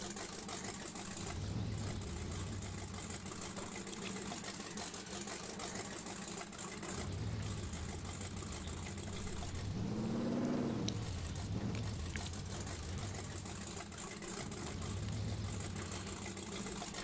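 A truck engine idles in the off-road driving game Mudrunner, a steady low rumble throughout with a brief rising rev near the middle, loud and close with no talk.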